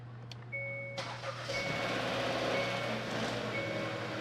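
A car engine cranks and starts in a workshop after a brake job, with a steady chime and beeping warning tones sounding over the idle.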